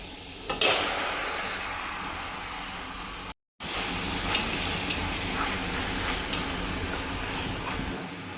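Steady crackling sizzle of chicken seasoned with lemon, salt and pepper frying in a pan, continuous and fairly loud, with a brief silent cut partway through.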